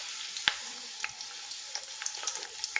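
Chopped onions frying in a pot for achicha, a Nigerian pigeon pea and cocoyam flake dish, giving a soft steady sizzle with scattered sharp crackles and pops, close and moderately quiet, with no talk.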